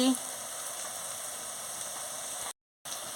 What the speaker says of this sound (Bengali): মশলার জলটা দিয়ে মশলাটাকে ভালো করে ভেজে নিচ্ছি